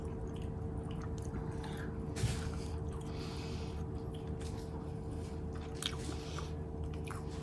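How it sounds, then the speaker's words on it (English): Chewing and crunching on a soft apple cider caramel cookie baked from muffin mix, close to the mic with steady mouth sounds and a few sharper bites under a faint background hum. "I feel like I'm eating a fancy muffin."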